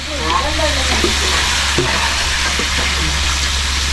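Adobo sizzling loudly in a pan as soy sauce goes in, a steady bright frying hiss with occasional stirring scrapes and a low hum underneath.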